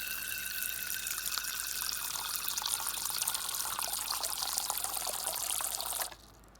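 A steady stream of water pours into a tarantula enclosure for a constant splashing run of about six seconds that stops abruptly, close and alone.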